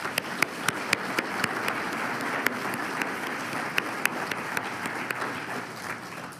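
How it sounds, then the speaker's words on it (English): An audience at a summit conference welcomes the board members with applause: a moderate, even wash of clapping with a few sharper nearby claps standing out throughout. "If we could give them a warm welcome and a round of applause."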